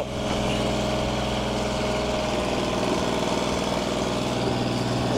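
A Ford 8N tractor with a Funk-converted flathead engine running steadily, a loud, close, throbbing mid-pitched drone with even firing pulses and no talking.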